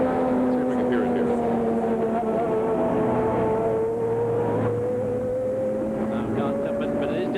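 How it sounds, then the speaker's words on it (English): A 1991 Sebring 12-hour IMSA GTP race car drives past the commentary booth with its engine misfiring, giving a loud sustained drone that slides in pitch as it passes, with commentators talking over it. "it is definitely misfiring when it goes past the booth here"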